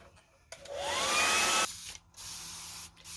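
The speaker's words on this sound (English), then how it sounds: "I'm going to dry this with my hair dryer." A hair dryer blows steadily on a freshly painted frame, switching on with a rising whine and running as a loud, close, even rush, briefly dropping off and resuming at a lower hum.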